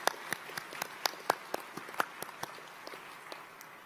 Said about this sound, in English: can you join me in a round of applause as we wait to step out with confidence?